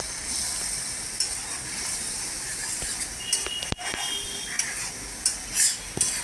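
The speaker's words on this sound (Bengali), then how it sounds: "একটু ভালো করে মশলাটা কষিয়ে নিচ্ছি" A spice paste for a prawn dish being stirred and fried in a pan with small splashes of water, giving a continuous close sizzle with scraping spatula strokes and occasional clinks and sharper knocks.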